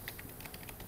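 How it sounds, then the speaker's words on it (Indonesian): Close, quick keystrokes on a computer keyboard, several light clicks in rapid succession with no voice. "Maka kita akan mengetik"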